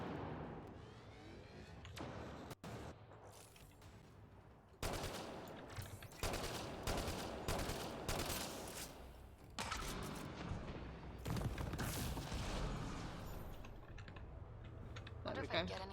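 Gunfire in the video game Mass Effect Andromeda comes in sharp bursts and rattling volleys, loud and close, mixed with keyboard-like clicking and occasional speech.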